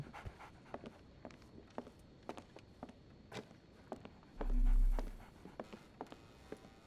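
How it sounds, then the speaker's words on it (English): A dog pants in quick, rhythmic breaths inside the video game Sherlock Holmes The Awakened, with soft footstep-like taps and one brief louder swell near the end. "So, Barnes has a dog now."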